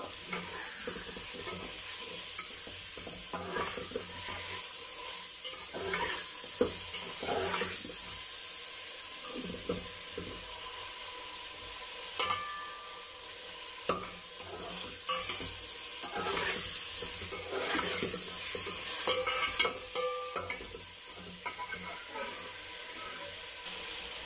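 Chicken pulao is stirred and fried in a pot after salt goes in: an ongoing sizzle with scraping spoon strokes and occasional clinks, plus some running water in the background.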